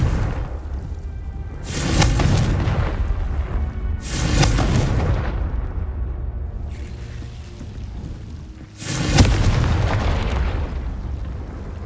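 The Confringo blasting spell in the Hogwarts Legacy video game sets off three heavy explosive booms with whooshing tails, two close together early and a third after a short lull.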